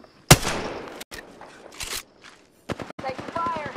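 Bursts of automatic gunfire in the video game Apex Legends, a sharp loud shot near the start followed by scattered rapid cracks and rattles, with a voice talking over the later part.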